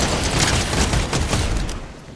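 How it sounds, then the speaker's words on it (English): Rapid gunfire from a Fortnite match crackles in a dense, loud volley for about two seconds, sharp shots piling together before tapering off slightly at the end. "Did you get sniped? Yeah, I got sniped."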